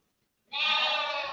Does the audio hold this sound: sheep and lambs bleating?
yes